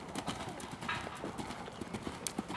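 A horse canters during a night riding lesson, its hooves making a rhythmic, moderately close clip-clop on the ground, with voices talking over it.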